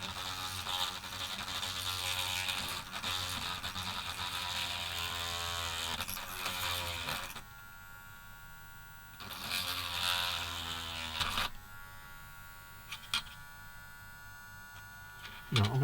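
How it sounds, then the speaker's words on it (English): A Dremel rotary tool works on a plastic model kit, a close whining buzz that runs for several seconds, stops, starts again briefly, then cuts out, leaving faint clicks and a low background hum. "I'm going to switch off now and clear up again and put the Dremel away"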